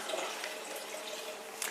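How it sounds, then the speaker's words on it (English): Excess water from a drinking-water filter housing is poured into a kitchen sink, a steady close splashing wash lasting the whole moment, with a brief louder spatter at the end. "lift it up and just dump the excess water into your kitchen sink"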